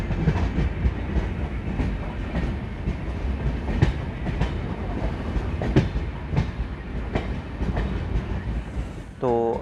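An Indian express train runs at a crossing with the Bidar Hyderabad Intercity Express, a loud continuous rumble with rhythmic clickety-clack of wheels over rail joints and a brief squeal near the end.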